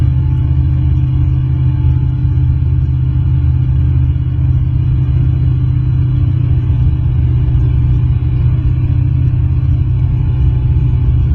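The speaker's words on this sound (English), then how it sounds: "I'm where I want to be, and rev this thing up and double check our spark plugs." A light aircraft piston engine holds a steady high-power run-up during a pre-flight spark plug check, a loud, constant droning rumble heard from inside the cockpit with no talk.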